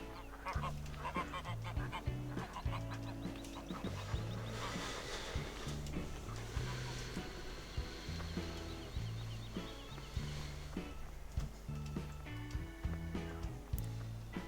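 Geese honking repeatedly in the farming video game Farming Simulator 2015, a steady chorus of loud nasal honks over continuous background music.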